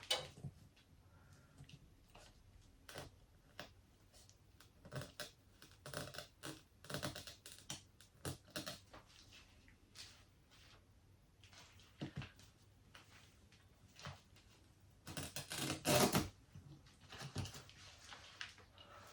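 A blade cutting into the stem of a Monstera Thai plant, producing faint scattered clicks and small snaps, with a louder crunching burst late on, quiet with no talking.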